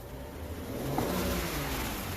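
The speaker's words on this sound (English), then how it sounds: "Actually, it does rev up now. Hear it revving up." A 2011 BMW 535i with a reduced-power fault revs up, its engine note swelling into a steady, moderately loud drone heard close by without talk.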